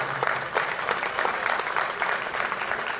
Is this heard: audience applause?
yes